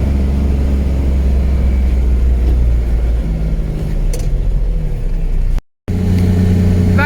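A car pulls away and drives out along a rural road during a pony drift, its engine rumbling steadily and close by, with a brief dropout before the motor continues.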